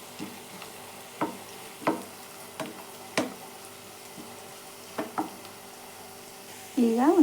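Onions and slit green chillies frying in a pan until golden for a soya chunks dish, with a low steady sizzle and a few sharp clicks of a spoon stirring against the pan.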